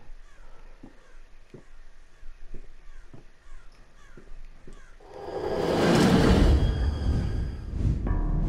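A crow cawing in the video game Rise of Insanity, a series of short, spaced caws over a quiet backdrop, then swallowed by a loud, rushing, broadband wind-like swell in the second half.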